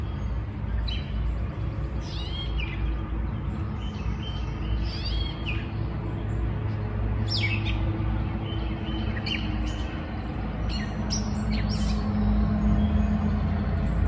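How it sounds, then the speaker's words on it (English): Morning birdsong: birds chirp and call intermittently, some high and sharp, over a constant low rumble of outdoor background noise. "there's a lot of beautiful bird song out here this morning"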